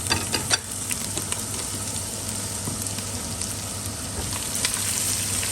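Garlic ginger paste fries in a pan for Lahori street-style chanay, giving a steady, close sizzle throughout with a few sharper spatters near the start.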